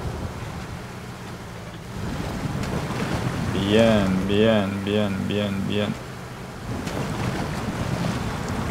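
A truck plows through water in SnowRunner on the Alaska map, giving a steady engine drone and washing rush that runs through the clip while a man repeats a word in a sing-song voice over it.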